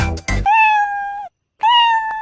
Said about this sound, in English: Kitty, kitty, Mama Ricky is a little cat